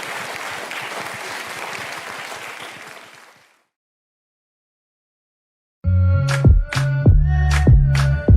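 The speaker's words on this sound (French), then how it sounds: "Ça s'applaudit s'il vous plaît" Applause from an audience after a live piano-and-voice performance of a song fades out into silence, followed by loud piano chords starting abruptly.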